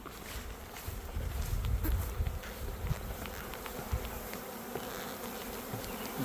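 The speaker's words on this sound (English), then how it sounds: "We get all the bees." A swarm of honey bees, just shaken into a pillowcase during a net capture, buzzes continuously and densely at close range, with brief rustling and handling noises.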